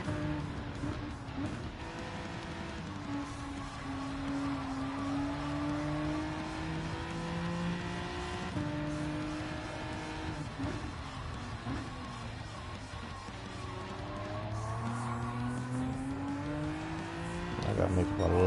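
Race cars in Gran Turismo 7 drive with a continuous engine drone whose pitch climbs and falls through gear changes, with occasional tire noise, moderately loud, and a voice talks over it at times.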